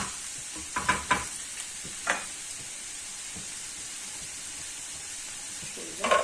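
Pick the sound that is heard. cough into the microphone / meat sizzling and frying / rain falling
meat sizzling and frying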